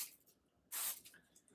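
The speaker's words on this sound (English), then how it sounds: "Let's spray this again." Cooking spray is squirted onto a waffle maker in a single quick, close hissing burst that rises sharply and stops, surrounded by faint quiet handling noise.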